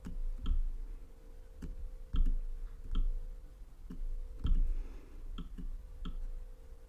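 Computer mouse clicks, close and sharp, about nine single clicks at irregular intervals against a quiet room.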